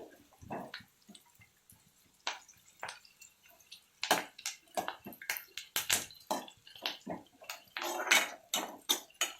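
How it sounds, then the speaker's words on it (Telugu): Tomato pieces tipped into a pan of browned onions for a brinjal-tomato fry, giving a run of close, crisp clatters and sizzling bursts, sparse at first and then dense, with no talk. "ఇప్పుడు కట్ చేసి పెట్టుకున్నటువంటి 4 టమాటా ముక్కల్ని దీనిలో వేసుకున్నామండి"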